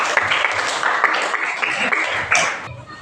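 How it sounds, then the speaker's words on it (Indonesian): Students in a classroom clap together in a short burst of applause that fades out near the end. "Ya, kasih tepuk tangan."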